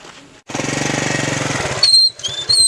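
A motorcycle engine starts and idles with a fast, steady pulsing chug, fairly close, then revs briefly before settling; high squeaky tones ride over the end.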